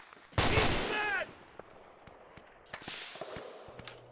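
Gunfire in the military shooter Arma 2 Operation Arrowhead, with a loud close burst of rapid automatic shots followed by scattered single cracks and a second volley further off, with a brief hum underneath.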